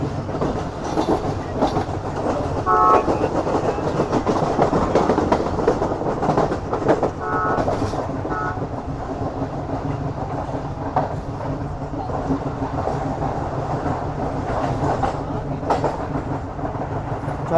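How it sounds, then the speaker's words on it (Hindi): The Karakoram Express runs between Karachi and Lahore in winter, with a loud, continuous rail rumble and rhythmic clickety-clack on the tracks heard close up throughout. "कोई ट्रेन भी आ रही है अप में भी,"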